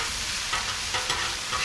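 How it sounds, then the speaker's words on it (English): A spoon keeps stirring chile con queso with smoked chicken in a hot pan, bringing a close, dense sizzle with soft scraping strokes recurring through it and no voices. "Now we're just getting all to mix up and blend together."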